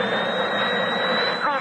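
Jet airliner engines roar during takeoff as a steady, loud, broad rush with a thin high whine running through it. A voice talks over the noise.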